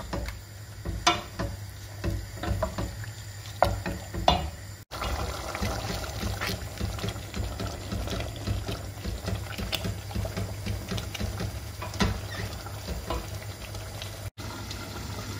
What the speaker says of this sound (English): our meat is cooking, we can add our tomato sauce.